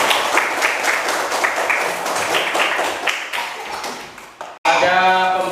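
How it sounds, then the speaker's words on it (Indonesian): Students in a fourth-grade classroom clap for a classmate in a brisk, rhythmic burst of close applause that stops abruptly, then a voice begins speaking right after. "Kita beri tepuk tangan buat Delisa."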